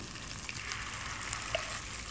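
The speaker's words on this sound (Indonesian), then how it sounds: "Panaskan minyak goreng, kita tumis bumbu sambal goreng yang udah dihaluskan tadi" Ground sambal goreng spice paste sautéed in hot cooking oil gives a soft, continuous sizzle with faint scattered pops, steady and fairly quiet throughout the short stretch.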